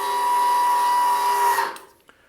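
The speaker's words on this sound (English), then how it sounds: "So now we can bring them up all the way." A small electric motor whines steadily at a high pitch as a Plymouth Superbird's flip-up headlights raise, then winds down and stops with a faint click, close by.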